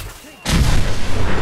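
Heavy gunfire from the video game Fallout 4 erupts suddenly after a near-silent moment, continuing as a loud, dense barrage of shots to the end.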